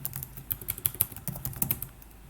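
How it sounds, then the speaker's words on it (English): Rapid, uneven clicking of keys on a computer keyboard as a password is entered, a close, crisp burst of keystrokes with no talk. "Oops, I typed the password wrong"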